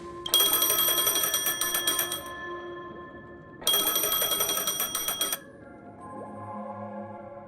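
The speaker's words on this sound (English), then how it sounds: "A phone." Telephone ringing inside the video game Genshin Impact, two loud electronic bell-like bursts of about two seconds each separated by a short pause, then softer tonal game music continuing.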